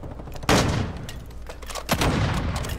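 A decoy grenade in a video game gives off loud, close bursts of fake gunfire, two sharp volleys with crackling shots between them and game noise under them.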